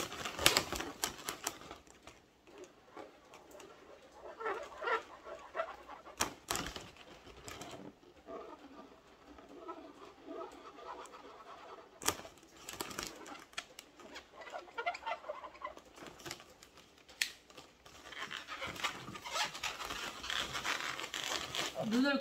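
Marker pen squeaking and tapping as eyes are drawn onto a balloon octopus, in short bursts of scratchy strokes mixed with balloon rubbing and crinkling, with a voice speaking over it.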